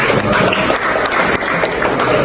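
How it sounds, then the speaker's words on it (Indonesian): A class of students in an Islamic education lesson claps on the teacher's cue, a short burst of fairly loud, close clapping from a small group, steady throughout with no talk. "tepuk tangan dulu"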